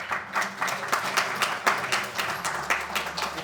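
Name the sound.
audience applause at karate awards ceremony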